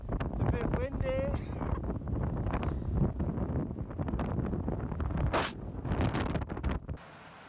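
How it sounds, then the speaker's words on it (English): Wind gusting outdoors in the Basque Country, a steady broadband rush buffeting the microphone throughout, with people talking over it. "a bit windy."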